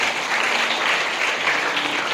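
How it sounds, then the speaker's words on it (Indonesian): Audience applause at a motivation and parenting talk held at an Islamic boarding school in Cirebon, steady dense clapping throughout, close and even in level. "Tepuk tangan untuk kita semuanya."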